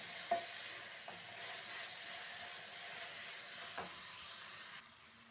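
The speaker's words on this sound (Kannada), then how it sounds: "ಉಪ್ಪು ಹಾಕಿ ಸ್ವಲ್ಪ ಮಿಕ್ಸ್ ಮಾಡ್ಕೊಳ್ಳೋಣ." Tomatoes frying with salt in a pan give a soft, steady sizzle, with a few faint scrapes of stirring and no voices.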